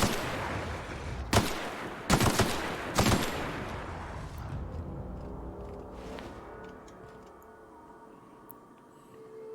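Gunfire in The Outer Worlds video game: three loud, sharp bursts of shots in quick succession, followed by fading echoes and quieter game ambience with faint distant clicks.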